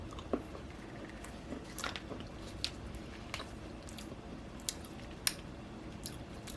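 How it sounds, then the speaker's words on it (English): Someone bites and chews a chalky fish-bone-shaped candy up close, with soft irregular crunches and small sharp clicks scattered over a quiet background and no talk. "When I bite into it, it's very soft and it kind of immediately turns into a powder."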